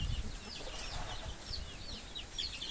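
Free-range chickens cluck and chatter steadily while being fed corn on a farm, a busy, close flock with overlapping calls and some wing flaps.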